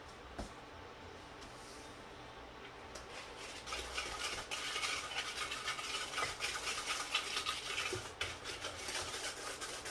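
A spoon stirs dry ingredients with cinnamon in a bowl, producing soft continuous scraping and rubbing strokes that grow busier and louder midway, close by and heard alone.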